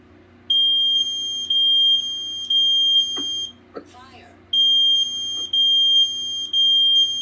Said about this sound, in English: The alarm will sound, and for your protection, is very loud.